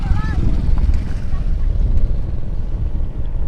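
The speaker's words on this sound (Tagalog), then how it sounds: "Kasi traktora na ang tawag dito, humihila." A tractor pulling a wide 12-foot harrow through a rice field rumbles with a steady, close engine drone and wind buffeting, continuous throughout with no talk.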